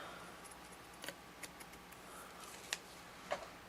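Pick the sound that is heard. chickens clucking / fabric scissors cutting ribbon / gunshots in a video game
fabric scissors cutting ribbon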